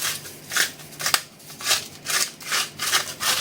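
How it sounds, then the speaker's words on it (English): Hand grinders turning out salt and pepper over a Thai-style bowl being prepared in a home kitchen, a steady rhythmic series of gritty grinding strokes, close and clear, with no talking. "I'm just going to go for standard grinds of salt and pepper."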